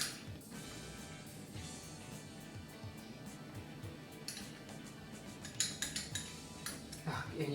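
A spoon scrapes and taps against a dish while spreading garlic and olive oil onto a low-carb flatbread, soft irregular clinks and scrapes with a few sharper knocks near the end.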